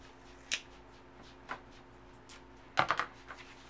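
Nonstick Teflon Fiskars scissors cutting adhesive foam tape, a few sharp, quiet snips spaced apart, with a quick cluster of cuts near the end over a faint background hum.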